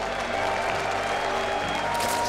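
A large crowd at a StarCraft 2 IEM Katowice 2016 semifinal applauds a player, with steady loud clapping and a caster's voice over it.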